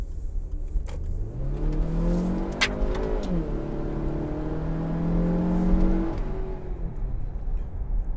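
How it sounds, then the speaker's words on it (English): A 2013 Range Rover Evoque with a 2.0-litre aluminium turbocharged engine accelerates hard, its close engine note climbing steadily in one long rising pull before easing off, with no talking over it. "let's let it do a little bit of its turbo work."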